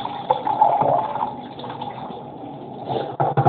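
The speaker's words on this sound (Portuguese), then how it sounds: "Pra poder limpar, ó, a gente colocar água dentro" Water poured into an electric kitchen appliance to clean it, a steady splashing, gurgling flow that runs close and fairly loud for a few seconds with no one speaking.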